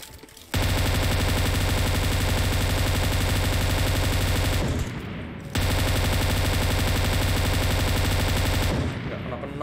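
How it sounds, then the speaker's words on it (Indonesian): Rapid automatic gunfire in PUBG Mobile comes in two long, loud, continuous bursts of about four seconds each, separated by a brief dip, with voices faintly underneath. "Wah, ada yang nembakin."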